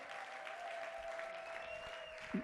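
Church congregation applauding and acclaiming during an Easter seminar, a continuous distant wash of clapping over a steady tone, ending with a brief louder sound.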